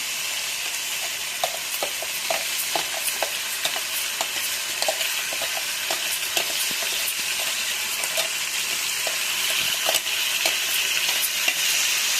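Masala for a stuffed eggplant curry fries in a pan, a steady sizzle and hiss running throughout, with repeated light scraping taps as it is stirred, close and fairly loud.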